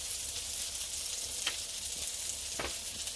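Thin venison slices fry in a pan at a deer camp in Arkansas, a steady close sizzle with a couple of faint clinks or stirring scrapes, no talking.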